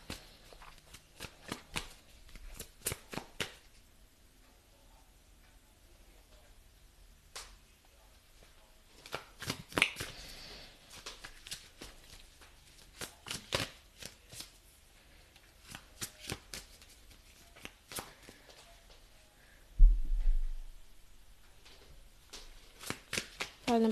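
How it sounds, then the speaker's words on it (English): Tarot cards being shuffled by hand in repeated quick riffling bursts, crisp and close, with pauses between rounds and a person talking quietly at times. "let's get some tarot cards."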